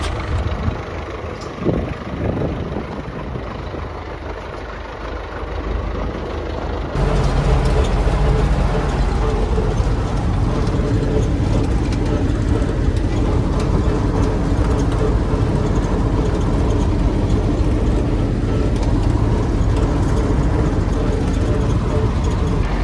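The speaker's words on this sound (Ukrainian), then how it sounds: "Підчепили ми вже культиватор, та зараз будемо їхати на поле." MTZ-82 tractor pulling a weeding cultivator toward a sunflower field, its diesel engine rumbling steadily and growing louder after a quieter start, with someone speaking over it.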